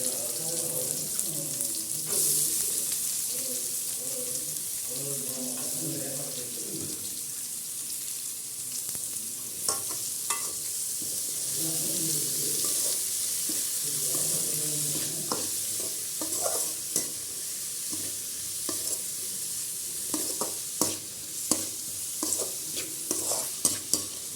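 Vegetables sizzle in a pan for veg macaroni pasta, a continuous frying hiss with repeated stirring scrapes, occasional spoon knocks and a low voice murmuring in the background early on.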